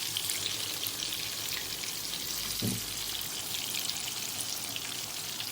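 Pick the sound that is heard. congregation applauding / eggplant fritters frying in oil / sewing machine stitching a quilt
eggplant fritters frying in oil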